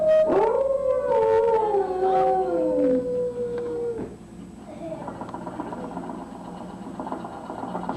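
During the Carousel of Progress stage show, the animatronic dog gives a loud wavering howl lasting a few seconds, followed by a lower mechanical whirring hum of machinery in the background.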